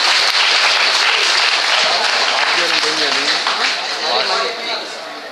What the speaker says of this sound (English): You got a round of applause.